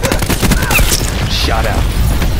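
Hellstorm missile strike in Call of Duty Black Ops 4, a loud, dense barrage of booming impacts and crackling explosions, continuous throughout and mixed with game voices.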